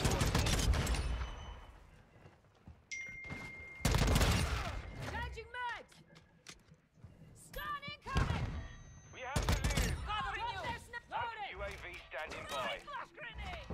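FTAC Recon rifle firing in Modern Warfare 2: loud, punchy single shots with echoing tails, spaced a few seconds apart, mixed with other game sounds and someone talking over the action.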